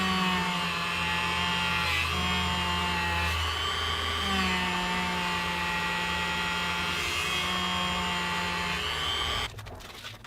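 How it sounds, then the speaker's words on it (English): A Dremel tool buffs guitar frets with polishing compound, a loud, steady high-pitched whine held for about nine seconds with slight pitch shifts before it cuts off. "finally I'll buff them up using some compound and a Dremel tool"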